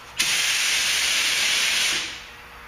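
Aerosol primer sprayed onto the bodywork of a Buick Century, a single steady hiss lasting about two seconds that starts abruptly and tapers off, close and alone without talk.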